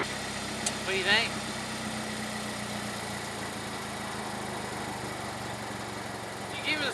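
A car engine idles steadily with its first aftermarket muffler fitted, a low, even rumble that runs throughout, with a brief voice sound near the start.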